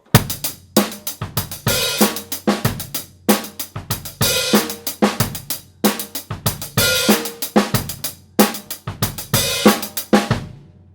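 A full drum kit plays a steady rock groove with kick and snare, while the hi-hat pattern sounds reversed, swelling into each hit, ending with a fading crash.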